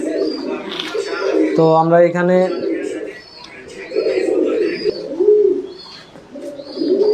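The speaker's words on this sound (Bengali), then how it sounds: "একজোড়া শিলা কবুতরের পাশে দুটি লক্ষার বাচ্চা দেখতে পাচ্ছি" Pigeons coo softly in their coops at a pigeon farm, with someone talking over the low, repeated calls and some chirping in the background.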